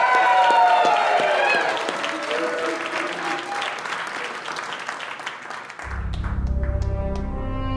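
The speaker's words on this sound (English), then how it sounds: "please give yourself a round of applause for coming out to this regal event" Loud applause and cheering from a live podcast audience in Atlanta, thick clapping with whoops that gradually thins out over several seconds before music with a steady beat takes over.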